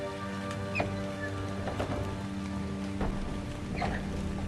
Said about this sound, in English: Looks pretty cool in the rain and fog